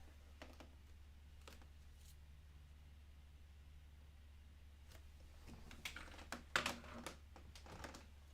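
Keys clicking on a Commodore 64 computer keyboard, soft scattered taps that thicken into a brief quick burst near the end, heard over a steady low hum.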